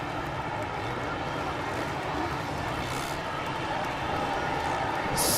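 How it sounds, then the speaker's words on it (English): A large stadium crowd at a Monster Energy Supercross race in Texas roars in a dense, sustained wash of cheering, loud and continuous throughout with brief louder swells. "this crowd is going crazy in Texas"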